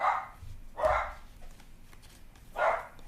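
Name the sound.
puppies barking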